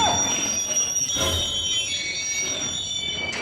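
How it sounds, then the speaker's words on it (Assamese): A freight train passes at Alipurduar station, its wheels giving loud, sustained high-pitched squeals over a steady rolling rumble for the whole stretch. "মই দেখা পাইছোঁ খালি মালবাহী ট্ৰেইন যাই আছে, আহি আছে"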